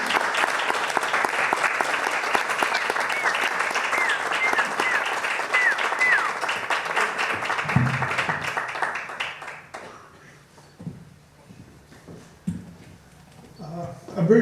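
An audience applauds to welcome a judge, steady dense clapping for about ten seconds that then fades out into quieter room noise with a few scattered claps and some speech.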